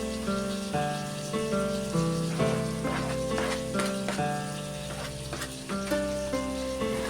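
Food fries steadily in a pan for chicken pulao with drumsticks, a continuous close sizzle with occasional stirring scrapes and hiss running throughout, and no talking.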